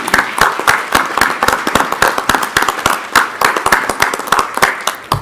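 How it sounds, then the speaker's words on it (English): Applause at a board of regents meeting, loud and close with distinct individual claps in a brisk, uneven rhythm that continues throughout. "let's give Dean a big round of applause"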